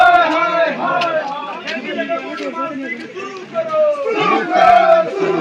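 A crowd of angry villagers in Joshimath, protesting over a road, chants slogans together in loud, rhythmic shouts, with overlapping voices and chatter close by.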